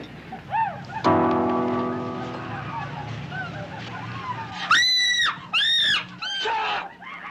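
A person's loud, shrill screams burst out in several quick bursts after a stretch of murmuring voices and low rumble.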